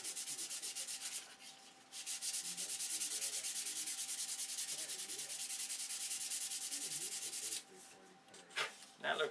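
Hand sanding on a paint job, with a steady rhythmic back-and-forth rubbing heard up close. The strokes continue evenly, pause near the end, then give way to a few short scrapes, with no one talking.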